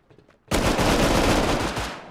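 Automatic gunfire in the video game Rust, a dense continuous burst of rapid shots that starts abruptly after a quiet moment and runs loud for over a second and a half, then tails off.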